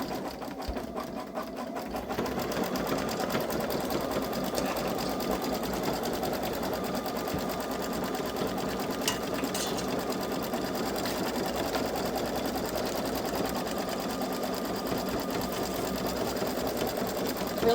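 A Babylock Solaris 3 (Vision) embroidery machine stitches an in-the-hoop Easter bunny feet design, a steady rapid mechanical hum and needle clatter that runs continuously and loud throughout.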